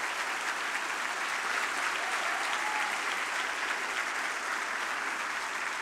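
A large audience at the Fórum da Liberdade 2024 gives a sustained ovation, dense steady clapping that holds evenly at full strength from start to finish with no pauses.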